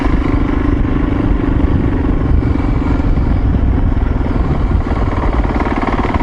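An off-road motorcycle rumbles loudly and steadily on a trail in the Corral Canyon OHV area, its engine drone close and unbroken with rattling clatter from the bike over rough ground.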